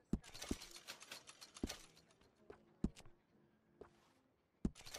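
Revolver parts such as bolts and triggers being fitted by a gunsmith in Red Dead Redemption 2, quiet mechanical clicks, creaks and ratcheting taps spaced irregularly.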